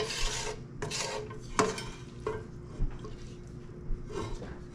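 Cooked vegetables are spooned into a casserole dish for a bacon, potato, egg and cheese casserole, with several scraping, rasping spoon strokes and soft clinks at close range.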